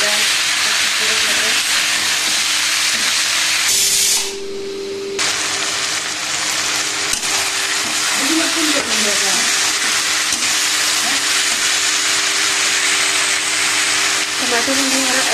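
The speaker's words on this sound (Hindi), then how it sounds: "टमाटर हमने हरा अदर बोल चुका है, हमें इसको और थोड़ी देर भून लेंगे" Chopped vegetables with tomato fry in a pan, a loud, steady broadband sizzle and hiss that briefly drops out midway and then resumes, with some tonal hum underneath and no talking.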